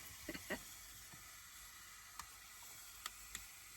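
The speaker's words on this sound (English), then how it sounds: "Don't put your hand by the steam vent, Amy, because that's hot." A faint, steady hiss of steam escaping from a vent inside a minivan runs throughout, with a few small clicks and pops.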